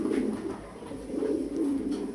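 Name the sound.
pigeons cooing at a pigeon farm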